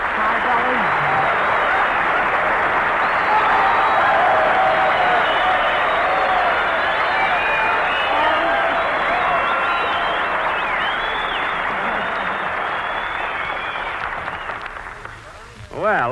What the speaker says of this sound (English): You know, Virginia, you got more applause than I did.